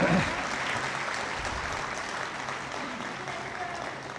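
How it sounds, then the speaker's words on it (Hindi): Audience at a Hindi comic poetry gathering (kavi sammelan) claps together in honour of seated poets, a steady, moderately loud round of applause that holds evenly from start to finish with no voices over it. "इनके सम्मान में एक बार आप लोग ताली बजा दें"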